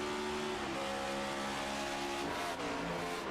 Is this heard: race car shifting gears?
yes